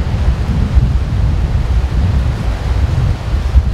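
Strong westerly wind at Lake Victoria buffets the microphone in a steady low roar, with rumbling gusts throughout and no voices.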